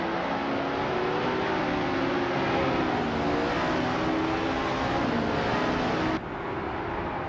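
A Cooper T77, a 1960s classic race car in a racing video game, holds a loud, steady engine drone at high revs, its pitch slowly wavering before the level drops suddenly near the end.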